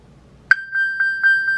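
An iPhone, triggered by the Apple Watch find-phone feature, gives a sharp initial ping followed by a steady high tone with several soft pulsing chirps, close and clear, with no talk.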